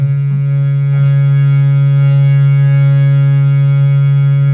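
Sa, the tonic note of Indian music, is held alone as one steady, sustained tone rich in harmonics, loud and unbroken throughout, with no voices.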